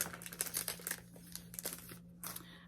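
Cellophane wrapper on a pack of paper journaling cards crinkling and tearing open in a quiet room, a steady string of close, light rustles and crackles with brief pauses.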